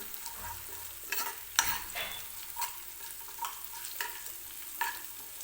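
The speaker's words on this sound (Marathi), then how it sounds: "बघा मिरची वगैरे मी व्यवस्थित तेलामध्ये भाजून घेते" Green chillies being fried in oil in a home kitchen, a soft steady sizzle broken by regular spoon stirs and scrapes against the pan, fairly quiet and close, with no speech.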